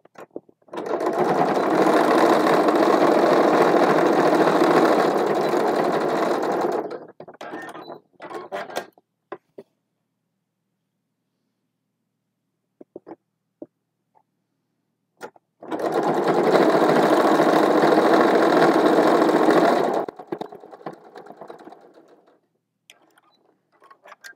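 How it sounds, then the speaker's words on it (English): A sewing machine stitches fabric in two long steady runs of rapid mechanical whirring, each several seconds long and loud and close, separated by quiet handling clicks and a pause. "Put it on the sewing machine."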